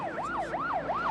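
An ambulance siren wails in fast, repeating rising-and-falling sweeps, about three cycles, heard at moderate distance as it arrives at a beach rescue at Bondi.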